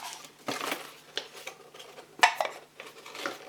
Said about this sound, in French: je vais l'ouvrir pour vous montrer. Le couvercle est en bois.